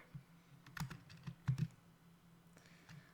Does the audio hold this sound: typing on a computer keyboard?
yes